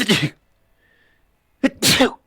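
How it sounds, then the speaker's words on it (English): A streamer sneezes close to the mic, a sharp burst, then a short silence and a second quick double sneeze, loud and abrupt. "I mean, I sneezed."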